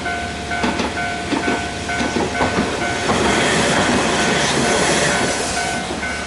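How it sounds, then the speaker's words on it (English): A train pulls into a station in Fukui, Japan, bound for Tawaramachi, with a loud, close, continuous rumble, rattling clatter and a broad hiss that swells toward the end. "Here comes the train."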